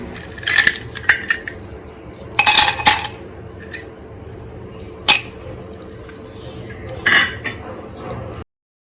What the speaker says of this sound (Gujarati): તો બરફના ટુકડા એડ કરીશું,